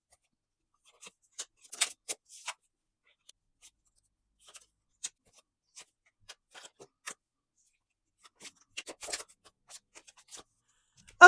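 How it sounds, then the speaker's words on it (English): Light, scattered crisp taps and soft flicks of tarot cards being shuffled, irregular and quiet against near silence. "I'm going to shuffle up the cards"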